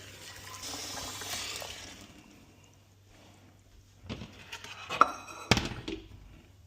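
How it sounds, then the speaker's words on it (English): Hot water runs from a tap into a cooking pot with a steady rushing hiss, followed by clunks and knocks nearby. "Luckily we've got a tap, which is like hot water directly from the tap."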